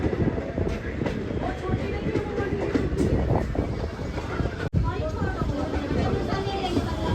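A train rumbles and clatters through Qazigund railway station in the Kashmir valley, a continuous loud rolling rattle with rhythmic wheel noise, heard close with people talking over it.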